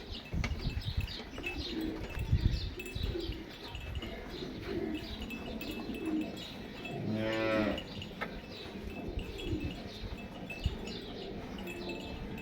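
A large Cholistani Friesian cross dairy cow lets out one loud, drawn-out moo near the middle, against steady farmyard background noise and faint bird sounds.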